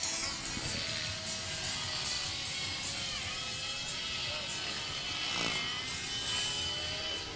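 A radio-controlled model helicopter flies along the flight line at the IRCHA 2010 event, giving a steady whining buzz with some distance to it, continuous and fairly faint against outdoor ambience.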